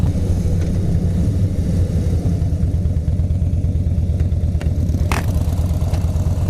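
A Harley-Davidson motorcycle rumbles along the road with a steady, loud, close, low pulsing engine beat throughout, with some wind noise.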